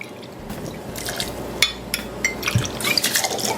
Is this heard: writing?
no